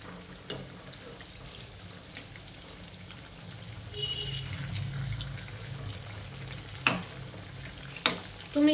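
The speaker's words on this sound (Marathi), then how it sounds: "आपण याला छान लालसर भाजू देऊया" Medu vada fry in hot oil with a soft, steady sizzle, and occasional sharp clinks and scrapes of a utensil ring out against the pan near the end.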